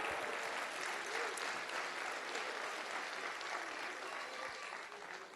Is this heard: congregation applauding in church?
yes